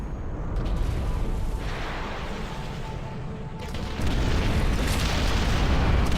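Bombers strike and destroy a hacked Nexus in the strategy game Ashes of the Singularity, a continuous rumbling wash of explosions that swells louder near the end, with no talk.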